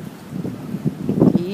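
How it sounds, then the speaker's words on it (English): Wind buffets across an open cruise ship deck on the Golden Princess, a continuous rumbling rush that swells and gusts louder near the end, with no talking. "It's a little windy and it's cold"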